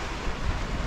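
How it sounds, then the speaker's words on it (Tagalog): Strong sea waves crashing, a dense, loud wash of surf mixed with wind buffeting close to the microphone, brief and continuous with no voices. "maingat lang talaga kami kasi malakas yung alon"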